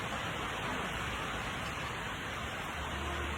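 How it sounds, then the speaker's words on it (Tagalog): Rain drips and patters steadily as a soft, even hiss of falling water, faint and constant with no voices. "Pumapatak po. Ayan o, oh, tingnan nyo, pumapatak."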